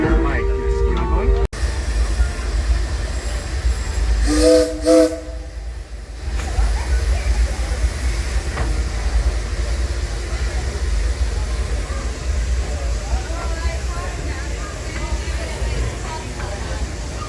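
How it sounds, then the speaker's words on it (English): Disneyland Railroad train ride with a steady rumbling roll and hiss throughout, a brief whistle-like tone early on, heard from aboard over a continuous loud background. "Welcome aboard the Disneyland Railroad. We're embarking."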